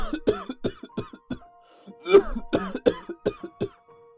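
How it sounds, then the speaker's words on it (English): A series of harsh, repeated coughs, several in quick succession, with a brief pause midway before another burst. The coughs are close and fairly loud, with a hoarse, throat-clearing quality. "How long have you had that cough?"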